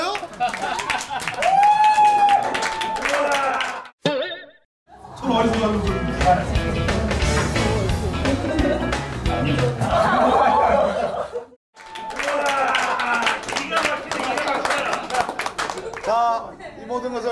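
An audience claps and laughs at a Korean politician's talk event after he sings, with bursts of applause and chuckles mixed with a man's amplified speech and music, broken by brief pauses.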